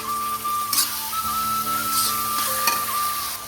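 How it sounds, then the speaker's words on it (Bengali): Ginger-garlic paste and spices fry in a pan while a utensil stirs them, giving a steady close sizzle broken by a few scraping strokes and a faint whistling tone in the background. "আদা রসুনের পেস্টটা দিয়ে দেবো, দিয়ে ভালো করে নাড়াচাড়া করে নেবো"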